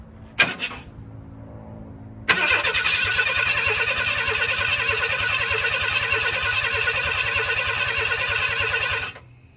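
A brief click, then a 1991 Ford F-150 pickup engine cranks with a rapid, steady chugging of the starter for several seconds without catching, close and loud.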